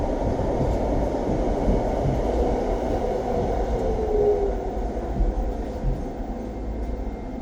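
A London DLR train runs between Tower Gateway and Beckton, a steady loud rumble and rolling hum from inside the carriage with no pauses.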